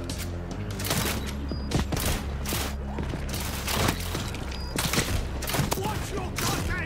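Rapid gunfire from World War Z: Aftermath, dense bursts of shots repeating throughout over a heavy low rumble of game action, with occasional shouted voices mixed in.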